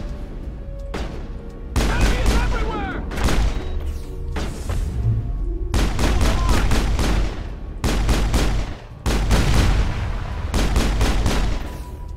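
Pistol gunfire in the Mass Effect video game: loud, sharp shots fired in quick repeated bursts with brief pauses between volleys, set against game effects.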